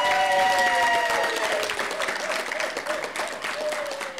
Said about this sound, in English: See all that applause? Just for you.